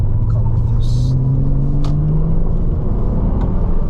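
A Porsche engine pulls under throttle, its tone climbing steadily as it accelerates over a heavy cabin and road rumble, with a few brief clicks and ticks on top.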